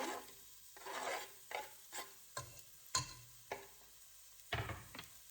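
Garlic and onion sauté in a pan over medium-low heat for broccoli cheddar soup, a soft sizzle broken by a series of close, scraping stir strokes at an uneven pace.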